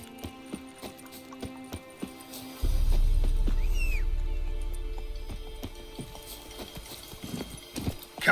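Hooves of Roach, a horse in The Witcher 3, clip-clopping on the ground, light taps at first, then a louder rhythmic trot over a low rumble that slowly fades, with no talking.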